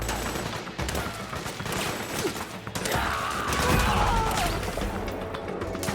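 Gunfire rattles through a tense combat scene in Metal Gear Solid 4, with dense bursts and crashes layered over constant background noise and mechanical clatter, fairly loud and close throughout.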